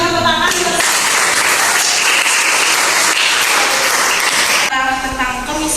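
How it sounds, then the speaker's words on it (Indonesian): Audience applause after a class presentation, a dense burst of clapping that fills most of the clip at steady loudness, with voices heard at the start and end. "kita berikan tepuk tangan."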